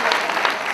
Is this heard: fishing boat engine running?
no